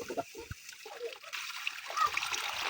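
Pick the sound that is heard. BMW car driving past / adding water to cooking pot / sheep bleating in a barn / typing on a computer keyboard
adding water to cooking pot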